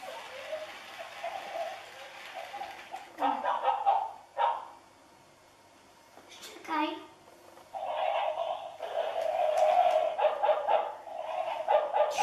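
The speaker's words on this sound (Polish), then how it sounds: "Tak skomle jak prawdziwy piesek, nie?" A small toy dog yaps and whimpers in short electronic bursts, repeating in clusters with brief pauses, fairly close, with a voice faintly around it.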